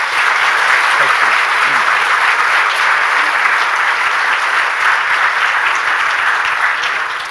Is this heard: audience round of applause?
yes